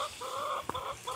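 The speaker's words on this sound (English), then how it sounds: "Susie, baby, look at the chicken, Susie." Farm chickens clucking close by outdoors, a short run of rhythmic, nasal clucks with a brief sharper note midway, no talk over them.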